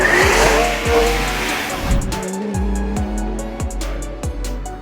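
A Ferrari V12 car drives past close and loud, its engine howling through rising revs with quick gear changes and brief dips between pulls.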